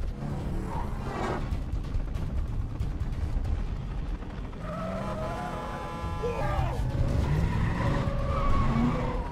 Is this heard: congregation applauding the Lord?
no